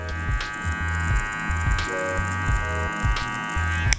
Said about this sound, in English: I'm angling it inward so that we allow the clipper or the hair to feed into the clipper so it can actually cut.